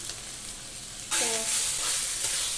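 Grated raw mango sautéing with urad dal, fenugreek and curry leaves in a pan, quiet at first, then a sudden loud sizzle that keeps hissing steadily.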